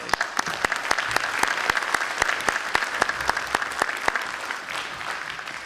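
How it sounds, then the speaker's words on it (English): Town hall audience applauding, with many hands clapping in a brisk, dense patter and distinct individual sharp claps punctuating the roar, sustained and fairly close. "round of applause to"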